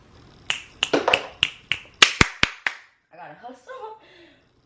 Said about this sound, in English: That's why I started clapping, chat.